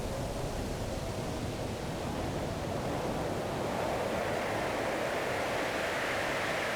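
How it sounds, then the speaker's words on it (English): Steady pink noise hiss from a synthesizer noise circuit, a continuous even rush resembling wind, loud and unbroken throughout with no other sounds. "So that's the pink noise circuit, and it makes a really nice wind sound."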